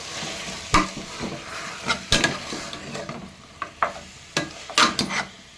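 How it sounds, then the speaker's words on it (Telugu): Mutton being stirred into cooked ginger paste in a pan, with a soft sizzle underneath and irregular scraping, clinking strokes of the spoon against the pan, heard up close. "ఇందులో మనం క్లీన్ చేసి పెట్టుకున్న మటన్ వేసేయాలి. వేసి అంత బాగా కలపాలి."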